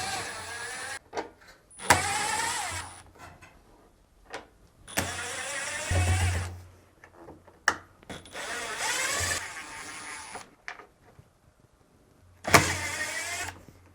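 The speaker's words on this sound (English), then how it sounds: "using a Phillips screwdriver, we'll remove the 8 mounting screws that hold down the top cover" A powered Phillips screwdriver drives out the top cover mounting screws on a Samsung WA456DRHDWR/AA washing machine, with several separate whirring bursts of a few seconds each and quiet gaps between them.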